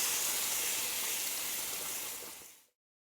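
Bean puree hitting hot leftover fat in a pan, a loud steady sizzling hiss that holds evenly and then cuts off abruptly.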